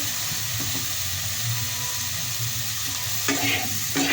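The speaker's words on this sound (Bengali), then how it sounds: "প্রচণ্ড গন্ধ কপি ভাজা, দেখো নাড়তে না পারলে" Cauliflower fries in a pan and is stirred, producing a constant close sizzle with scraping stirring strokes that grow louder near the end, with no talking.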